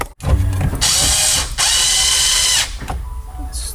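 A power driver whirs in two sustained bursts, then a short third, driving screws into the dash bezel of a 1992-1996 Ford F-150 or Bronco, close and loud with no talk.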